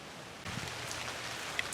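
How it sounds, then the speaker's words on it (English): Steady rain falls outdoors onto muddy ground and puddles, a constant soft patter that swells louder after a quiet first moment and continues evenly. "It's raining. It's coming down steady."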